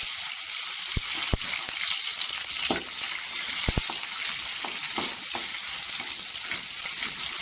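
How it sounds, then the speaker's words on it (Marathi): Green chillies sizzle steadily as they hit hot oil with garlic in a pan, a loud continuous frying hiss with a few sharp pops and crackles scattered throughout and no talking. "लसूण पण छान अशी तरतरली पाहिजे इथे आपण मिरच्या टाकायचं"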